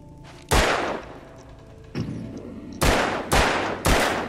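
Gunshots from the video game Alan Wake, five loud sharp blasts, the first two spaced apart and the last three coming in quicker succession, each with a brief echoing tail.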